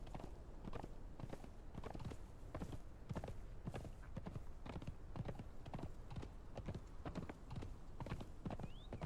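Horse hooves clip-clop at a steady walking rhythm in the video game Conan Exiles, a run of evenly spaced sharp knocks heard close and clear, with a faint whinny-like tone near the end.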